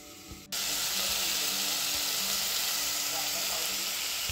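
A steady, loud sizzle of food cooking on a wood-burning cookstove, starting abruptly after a brief quiet moment and holding a constant hiss close up, with no talking.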